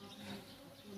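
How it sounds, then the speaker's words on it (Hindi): A bee buzzing close by, a steady insect drone lasting the full second over a busy background with faint voices. "ये क्या है, मधुमक्खी ना"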